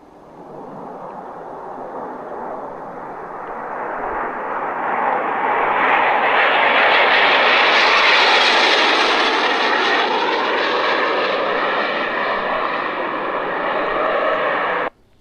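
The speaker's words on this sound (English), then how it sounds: "then the Joker hears a jet nearby flying" A jet aircraft flies nearby, its loud roar swelling over several seconds, then holding steady and close before cutting off abruptly at the end.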